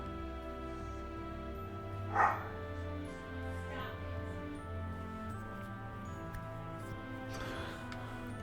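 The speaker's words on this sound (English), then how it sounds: "the dogs are getting a little restless anyway" Dogs barking faintly in a room, a couple of short separate barks with a louder one early and softer ones later, over a steady low background hum.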